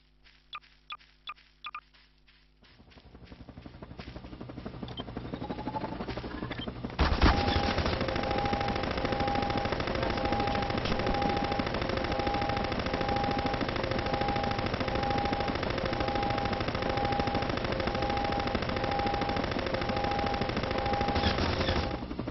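A helicopter in the Garry's Mod video game fires its machine gun. A few sharp clicks come first, then a loud, sustained stream of rapid fire runs for about fifteen seconds over a steady, pulsing beep.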